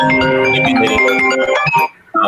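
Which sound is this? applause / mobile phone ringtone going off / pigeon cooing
mobile phone ringtone going off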